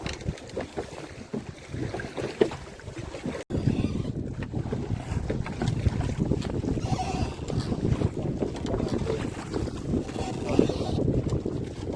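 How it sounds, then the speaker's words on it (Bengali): Strong wind roars across the microphone over a steady wash of waves against a boat in the Sundarbans, constant and close throughout, with voices faint underneath. "আজকে কিন্তু প্রচণ্ড ঢেউ আর প্রচণ্ড হাওয়া"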